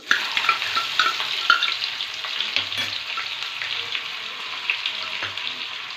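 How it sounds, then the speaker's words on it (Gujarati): Dried onions with hing and turmeric fry in a pan on a gas flame, giving a continuous bright sizzle. A spoon stirs the pan with frequent scraping and occasional clinks, close up and without speech. "ગેસની ફ્લેમ થોડીક લો કરી દઈશું અને એને ચલાવીશું."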